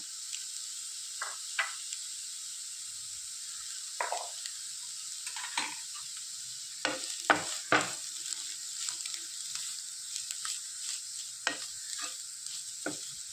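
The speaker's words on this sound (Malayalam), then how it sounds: "എല്ലാം കൂടെ നന്നായിട്ടൊന്ന് മിക്സ് ചെയ്യുക." Bitter gourd and egg stir-fry with freshly grated coconut being stirred in a pan, a soft constant sizzle under irregular scraping and clinking spatula strokes, close up with no talking.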